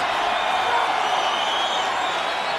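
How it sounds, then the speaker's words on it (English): Sellout arena crowd at the MGM Grand Garden Arena during a UFC 71 fight, a dense, steady roar of many voices at constant loudness. "Great sellout crowd here tonight at the MGM Grand Garden Arena."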